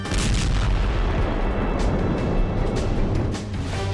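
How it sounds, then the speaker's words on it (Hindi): Artillery shell explosion near Zaporizhzhia in the Russia–Ukraine war, recorded from a drone as shells strike a Ukrainian army convoy: a dense, sustained low rumble of booms, loud and continuous, with no voices. "उसने पहला धमाका रिकॉर्ड किया"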